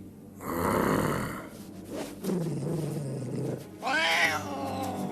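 Lynx, a wild cat in a cartoon forest, growling and snarling in rough, throaty bursts, close and loud, with a sharper yowling rise at the end.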